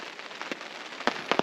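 Rain falls on a shelter at a Canadian wilderness campsite during a canoe trip: a constant soft hiss with a few sharper drop taps striking nearby.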